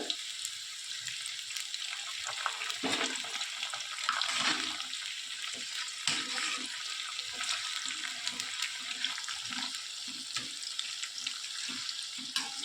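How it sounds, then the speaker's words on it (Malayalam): Salt water is poured straight into a pan of frying jackfruit chips. The result is a steady, faint hissing, sizzling wash with soft intermittent bubbling and crackle, and no talking. "നമുക്ക് ഇതിലോട്ട് തന്നെ നേരിട്ട് അങ്ങ് ഒഴിച്ചു കൊടുക്കാവുന്നതാണ്"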